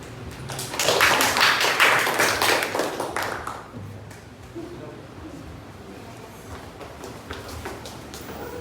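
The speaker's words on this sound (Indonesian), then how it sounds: "Beri tepuk tangan untuk kelompok 1." A classroom group of students applauds a presenting team during a teacher-training session, a burst of brisk clapping peaking in the first few seconds, then fading into scattered taps and light voices.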